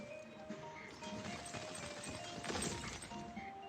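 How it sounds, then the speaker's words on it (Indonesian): Stone slab cracking and crumbling in a Baby Bus reconstruction truck game, a few crunchy breaking impacts over a steady mechanical whir, with a sharper burst of shattering near the end. "Sekarang, ayo kita pecahkan lempengan batu itu."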